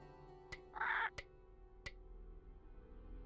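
A crow in a video game caws once in a short, harsh burst, set among a few sharp clicks over a quiet, low background hum.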